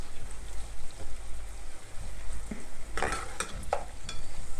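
A medium onion fries with okra and mince in a pan, giving a continuous low sizzle and bubbling, with a few louder stirring scrapes toward the end.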